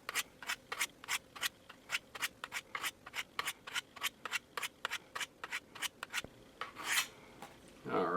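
Knife blade drawn repeatedly down Spyderco Sharpmaker ceramic rods, about two dozen crisp rasping strokes in a steady rhythm, close and clear, with a louder scrape near the end.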